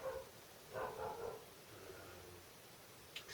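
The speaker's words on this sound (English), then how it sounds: "Excuse the dog barking away." A dog barks a few times in the background indoors, with short, moderately loud bursts spread across a quiet room.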